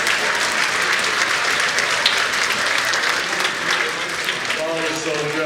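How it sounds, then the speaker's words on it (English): Dense, continuous applause from a banquet audience at a sports hall of fame induction dinner fills the room at steady volume, with a voice faintly underneath near the end. "While we're settling down, how about a big round of applause for Jen and her staff from Shenanigans"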